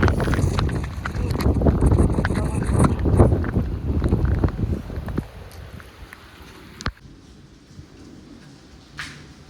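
Strong wind roars and buffets the microphone for several seconds on a rooftop during the season's first rain in Surat, then eases to a quieter hiss broken by a few sharp knocks.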